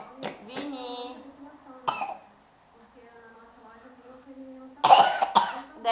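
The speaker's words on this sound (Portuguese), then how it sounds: "De ver o tamanho que tu tá com tosse." A child coughs and clears the throat several times at home, with a harsh burst near the end, mixed with nearby speech and voiced sounds.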